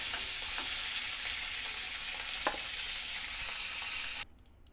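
Cumin seeds sizzle in fish-frying oil in a wok, a loud, steady crackle with a few stirring scrapes, cutting off abruptly near the end to near silence.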